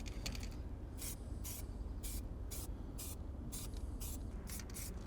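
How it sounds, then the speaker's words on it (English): An aerosol spray can lays a gentle rust-protection coat on a car's floor pan, hissing in about ten short, evenly spaced bursts over a low background hum. "now I can spray some primer or whatever so it doesn't look that ugly"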